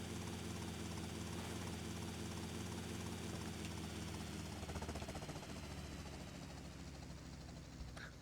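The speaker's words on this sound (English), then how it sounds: "Alright, so we're back with the big helicopter, and we're going to the jewelry store." Big helicopter in the video game GTA Vice City Definitive Edition, a steady, loud rotor and engine drone with rapid chopping blade pulses, continuous and close throughout.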